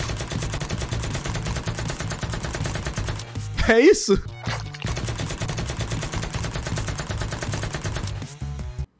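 Rapid video game gunfire rattles continuously as an enemy shoots and misses, with a short break of other effects midway before the loud bursts resume, while a voice briefly speaks.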